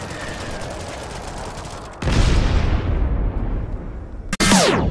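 Airstrike explosions and gunfire ring out in a video game, with a steady barrage of shots followed by a heavy, booming blast and a final sharp explosion near the end, loud and without speech.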